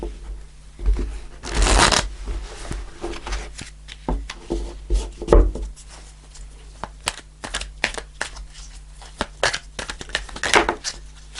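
Tarot cards shuffled by hand, a string of crisp riffling and sliding bursts at close range with quieter taps and rustles between them.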